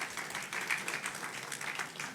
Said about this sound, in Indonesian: tepuk tangan yang keras buat Tuhan